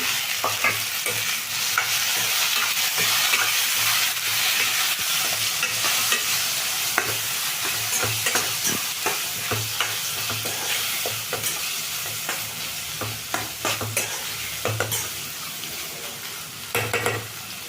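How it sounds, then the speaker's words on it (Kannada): Potatoes and green peas fry in a pan for a pea gravy, a constant close sizzle with repeated scraping stirs and small clinks that grow busier toward the end. "ಸ್ವಲ್ಪ ಫ್ರೈ ಆಗಲಿ ಬಟಾಣಿನೂ ಆಲೂಗೆಡ್ಡೆ"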